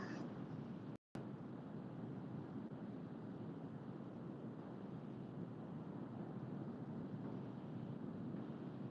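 Steady, heavy wind roars and buffets the microphone throughout, with a brief dropout near the start.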